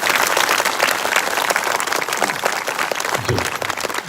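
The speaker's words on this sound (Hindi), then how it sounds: "जब आपकी पास्टर आ रही हैं तो ताली बजा दीजिए।" A church congregation applauds as their pastor arrives, dense steady clapping filling the room at a loud, even level throughout with no voices standing out.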